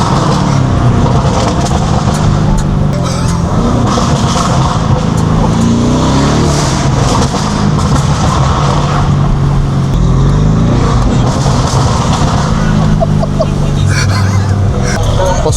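Loud, continuous engine roar and revving from a Lamborghini Urus with a full carbon package, filling the whole stretch with rising and falling surges in a city setting.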